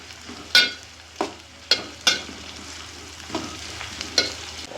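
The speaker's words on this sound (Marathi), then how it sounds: "गॅस मोठा करायचा आहे आणि कांदा मस्त असा परतून घ्यायचा." Sliced onion stirred and sautéed in a pan over high heat for a handi chicken curry, a steady close sizzle broken by several sharp scraping strokes of a spoon against the pan, with no talking.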